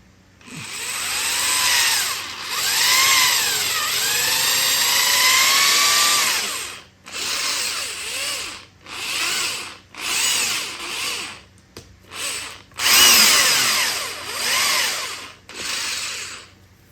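A power drill whines loudly in long bursts, its pitch sweeping up and down as it bites into the wooden body of a DIY kit guitar, stopping and restarting several times.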